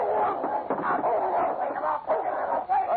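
A dog barks and snarls while attacking a gunman in a Yukon outdoor scene, dense and continuous noise throughout, fairly loud and close.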